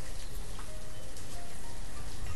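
Steady rain falls in the village-building game Banished, a continuous even hiss of drops with no talk over it.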